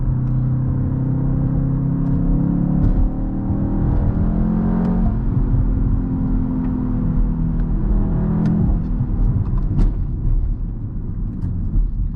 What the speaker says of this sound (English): Here's what it sounds with boost mode on.